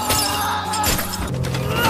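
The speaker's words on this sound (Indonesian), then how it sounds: "Bobby lalu merusak kaca telepon umum." Glass panes of a public phone booth shatter in a loud, sustained crash that fills the whole moment, with breaking fragments scattering and no voices over it.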